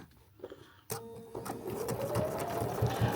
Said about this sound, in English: you're going to sew 1/4 of an inch on that one